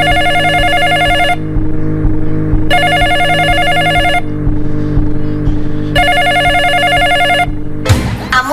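Telephone bell ringing inside a Brazilian pop da Amazônia track played at a street bloco party, three loud repeated ring bursts over a steady electronic beat, ending in a brief swoosh effect.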